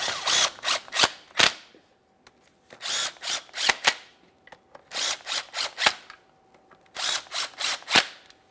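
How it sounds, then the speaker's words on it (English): Bolts on the rear transmission mount of a 2011-2021 Jeep Grand Cherokee 3.6L V6 being tightened, with close, loud bursts of rapid ratcheting clicks arriving in repeated groups and short pauses in between. "Start in all four of our 13mm headed mounting bolts, snug them up, and then I'm going to torque these to 20 foot-pounds."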